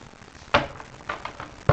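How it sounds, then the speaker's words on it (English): A few short riffling bursts of cards being shuffled, close by and fairly quiet, with brief pauses between them. "let me shuffle the deck"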